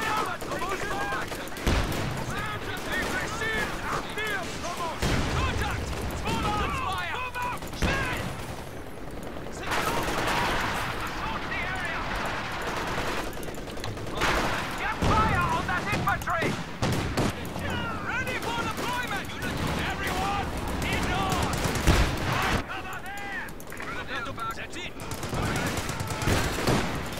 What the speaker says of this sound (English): Taking small arms fire!